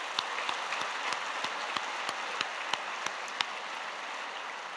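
Church congregation applauding during a Friday evening service, a soft wash of clapping with a few distinct louder claps standing out at irregular intervals.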